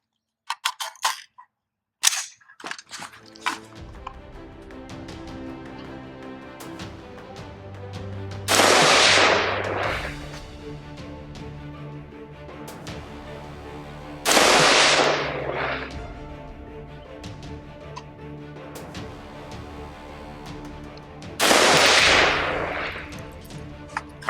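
Daniel Defense DDM4V11 lightweight AR-15 rifle firing Sierra match rounds, several sharp loud gunshots spaced seconds apart, each with a ringing tail, after some earlier clicks and handling noises.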